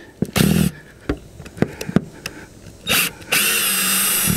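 A power drill backs screws out of an RV skylight in short separate bursts, two of them longer whirring runs, with small clicks and handling knocks between them.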